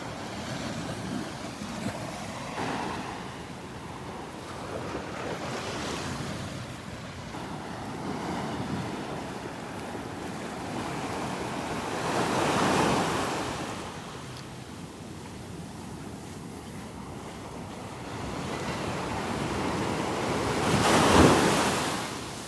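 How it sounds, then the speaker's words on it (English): Gulf surf crashing on a beach in Naples, Florida, a steady wash of breaking waves with swells building and receding, roughened by wind buffeting the microphone. "I love those sounds of the crashing waves,"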